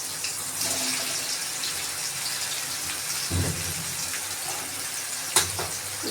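Food frying in hot oil in a wok, a steady loud sizzling hiss throughout with a couple of brief clatters from stirring.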